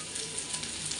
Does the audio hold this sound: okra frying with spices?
yes